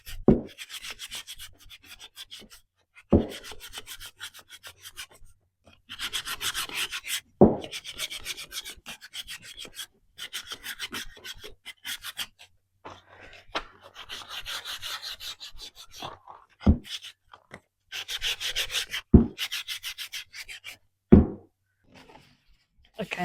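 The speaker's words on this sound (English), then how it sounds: "I'm going to hand sand it" Painted wood is sanded by hand with 220-grit paper, a close, rhythmic scratchy rubbing in repeated strokes with occasional knocks and short pauses between passes.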